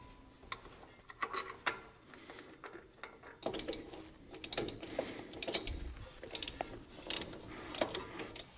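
A ratchet clicks as the crank bolt is tightened to draw a front main seal into place, with faint metallic ratcheting bursts and tool clinks heard close up but quiet, no talking.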